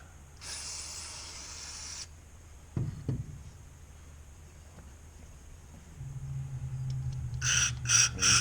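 A can of cleaner sprays in a long hissing burst onto a lawn mower carburetor's jets, followed by clinks and handling noises, then several short, sharp spray bursts near the end.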